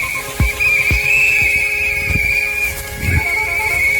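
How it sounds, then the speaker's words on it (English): Chaotic outdoor scene with a steady high-pitched whistle tone running throughout, punctuated by several short low thumps or blasts and a swelling shout near the end, all over a dense buzzing background like a swarm of insects. "Whistles, screaming, car horns, and a billion bugs."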